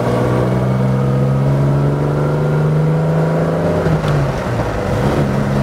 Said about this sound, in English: Lovely engine sound.